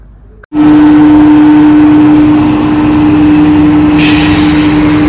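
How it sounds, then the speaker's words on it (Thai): A septic tank vacuum truck pulls up, its engine starting abruptly after a brief quiet and then holding a loud, steady drone with a constant hum and a rise in hiss near the end. "มาแล้วค่ะมาแล้ว รถดูดซ่วมหรือเปล่า"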